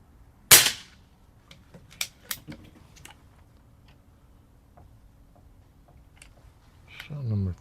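An Umarex Zelos .25 air rifle fitted with a moderator fires once, a sharp, close, muffled crack, followed by light mechanical ticks and a brief voice near the end.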